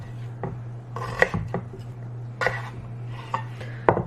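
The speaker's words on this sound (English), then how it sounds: "So we're just gonna cut these into fry shapes." Potatoes are sliced into fry shapes on a board with a knife, giving a handful of separate crisp, close thunks at an uneven pace over a steady low hum.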